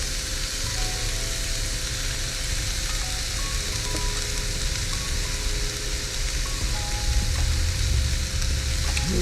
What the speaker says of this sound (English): gonna get the shrimp on here. It's gonna cook super quick.